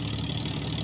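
Supermarine Spitfire Mk1A piston engine idling in Microsoft Flight Simulator, a steady low rumbling drone with a slightly uneven throb, muffled as if heard from inside a closed canopy.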